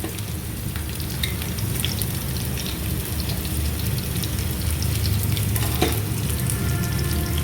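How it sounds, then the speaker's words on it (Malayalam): Split small red onions are dropped into hot oil for a chutney, giving a close, steady, dense sizzle with fine crackling that runs continuously without pause or talk. "അത് ഈ ചൂടായ എണ്ണയിലേക്ക് ഒന്നിടുക"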